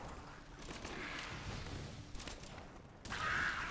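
The Demon Hunter's Rapid Fire skill in Diablo 3 looses a dense, rattling fusillade of rapid shots that swells to a louder, brighter burst near the end, with no voices over it.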